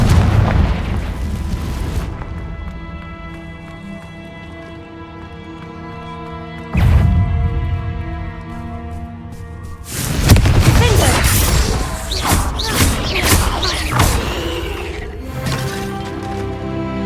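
Confringo blasting spell in Hogwarts Legacy, a deep booming explosion after a short spoken moment, followed by a second blast and crackling, rumbling debris with sustained musical tones underneath.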